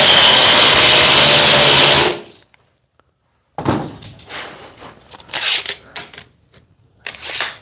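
A Milwaukee oscillating multi-tool cuts with a loud, dense buzzing for about two seconds, then stops dead, followed by scattered knocks and handling clatter of uneven loudness.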